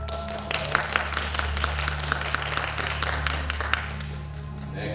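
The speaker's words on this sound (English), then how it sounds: "Big round of applause for Kronos." Applause from the audience at a school Greek Gods festival: steady clapping from many hands over a low hum, fairly close, gradually thinning toward the end.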